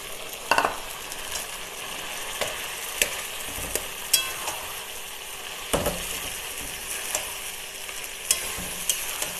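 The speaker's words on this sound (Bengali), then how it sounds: "এইবার আমি মাংসটাকে ঢেলে দেব।" Meat frying in a pan of cooked-down spice masala for panthar mangsho, a steady close sizzle with scattered sharp clicks and taps from the pan and utensil.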